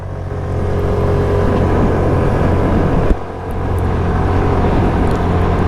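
A 2026 Suzuki Burgman Street 125cc scooter engine drones loudly at full throttle, with one brief dip partway through before it settles back into a steady roar.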